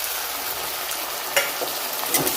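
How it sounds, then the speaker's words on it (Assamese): Onions frying in a pan with turmeric, salt and spices being stirred in, a steady close sizzle with a few scraping stir knocks from a spoon, no talking. "পিঁয়াজখিনি ভাজি হৈ গৈছে আৰু এতিয়া মছলাখিনি দি দিওঁ"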